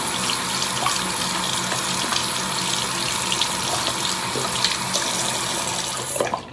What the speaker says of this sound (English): I just rinse it in warm water